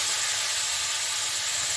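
Banana flower fries lightly in a pan, giving a steady, soft, close hiss with no breaks or other sounds.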